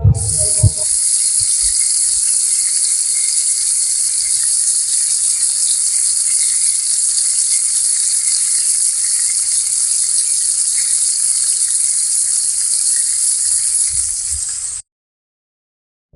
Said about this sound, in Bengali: এবার এক চামচ মতন হলুদ গুঁড়ো স্বাদ মতো নুন অল্প গুঁড়ো লঙ্কা দিয়ে ভালো করে কষে নিতে হবে